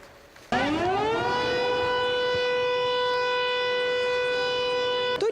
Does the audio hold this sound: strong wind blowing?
no